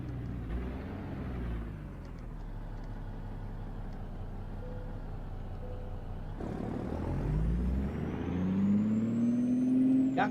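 A damaged, unrepaired truck in American Truck Simulator drones along with a low, steady engine rumble that swells louder in the second half, with a rising whine and a brief hiss near the end.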